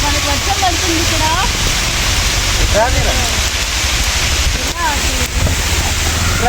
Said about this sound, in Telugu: మనకు వర్షం పడుతుంది ఇక్కడ